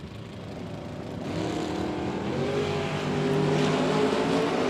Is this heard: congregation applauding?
no